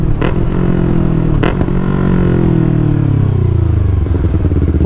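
Yamaha R3 motorcycle with a loud full-system exhaust, very close and dominating, its engine roaring and revving with rising and falling pitch and a rough, throaty drone throughout.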